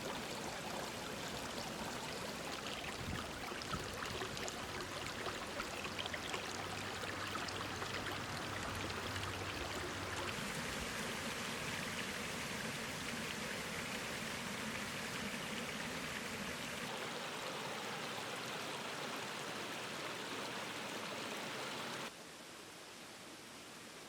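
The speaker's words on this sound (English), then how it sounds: "hearing the water slowly rush through the gaps in between the rocks" A stream rushes through gaps between rocks, a steady broadband hiss of flowing water, soft and continuous, shifting in tone over about twenty seconds with no voices.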